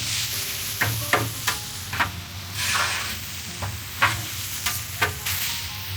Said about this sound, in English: We're gonna give this 60 more seconds on the grill.